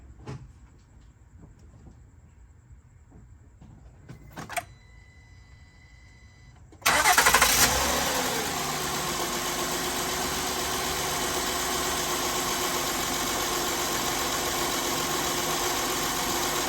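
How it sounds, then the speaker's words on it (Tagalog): Car engine just after an oil change, heard in a driveway: a quiet lead-in, then a sudden crank and start, and a loud, steady idle that continues to the end. "So ngayon, start natin yung engine."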